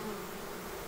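Steady, dense buzzing of a honeybee swarm outside a hive box, close and continuous throughout with no pauses.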